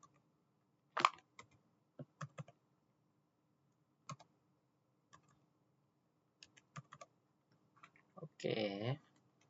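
Computer keyboard keys click in short scattered bursts while text is entered in the vi editor on Ubuntu, with a quick flurry of presses near the end against a quiet background.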